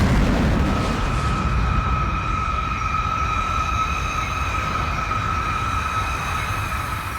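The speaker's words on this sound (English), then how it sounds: "Compare how Reg's incinerator usually looks and sounds." Reg's incinerator fires in the Made in Abyss anime, a steady roaring, rumbling blast laced with high whining tones that holds evenly for several seconds without any voices.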